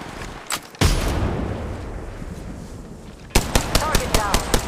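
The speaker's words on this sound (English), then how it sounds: "Reloading. Shooting." Automatic weapon fire in Apex Legends Mobile bursts out loud and close, one sharp shot then a sustained roar, and later a quick rhythmic string of about seven rapid shots; no one speaks.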